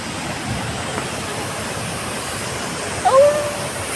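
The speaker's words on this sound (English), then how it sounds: "See that water falling." Chinma-Dare waterfall in Meghalaya roars as a steady broadband rush of falling water, constant and full throughout, with a brief faint voice near the end.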